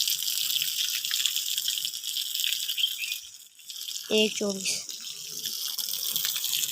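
Water runs from a pipe opened to full flow at a home, a steady rushing hiss throughout. It briefly dips and then resumes, with a short burst of speech partway through.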